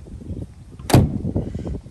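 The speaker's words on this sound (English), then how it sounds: "Again, doors close nicely." The door of a 1973 Rover P5B Coupe shuts once with a solid, close thud near the middle, followed by faint handling noises and room ambience.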